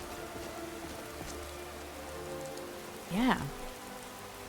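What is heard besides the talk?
rain in Skyrim with weather mods, from a video game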